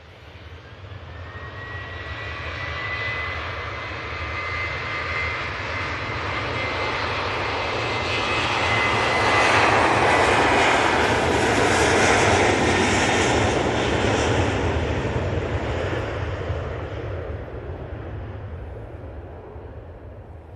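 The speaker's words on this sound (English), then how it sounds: "Jet 2, 737, now on the roll." A Jet2 Boeing 737 roars down the runway on its takeoff roll at Manchester Airport, a broad rumbling jet noise that swells steadily to a loud peak and then eases slightly as it passes, with no talking.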